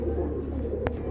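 A pigeon of a rare colour variety gives a soft, low coo, close but faint, against a low background hum.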